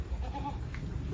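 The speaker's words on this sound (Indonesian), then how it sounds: "Kayak kambing." A goat bleats once, fairly close, over a steady low rumble of background noise.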